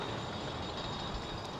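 A tram runs along the street right beside a Surfers Paradise hotel, giving a steady, moderately close rumble of rail wheels and motor that fills the moment without speech.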